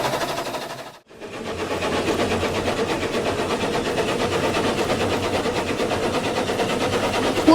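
Train engine running on the line in the Trainz video game (TRS2022), a continuous loud mechanical drone with a fast rhythmic chuffing texture, briefly cutting out near the start and then holding steady without talk.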